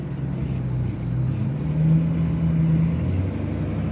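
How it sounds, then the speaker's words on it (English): A steady, low car engine drone with a throaty exhaust rumble, climbing a steep hill, rises slightly in pitch partway through and holds, heard from inside or close by. "Trying to hear if it's cutting out or if it's just the exhaust."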